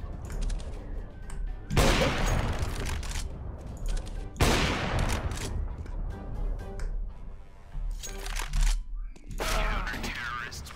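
Bursts of CS:GO gunfire crackle in several volleys during a sniper duel, some sharp single shots and rapid strings, with voices talking over the action.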